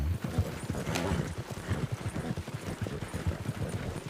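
A horse pulling a cart clip-clops steadily along, even hoof beats at a moderate walking pace, fairly quiet and close, with a brief higher noise near the start.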